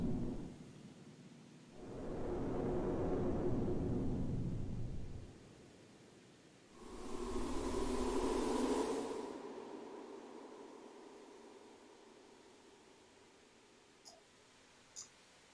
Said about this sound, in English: as a result, we get this windy soundscape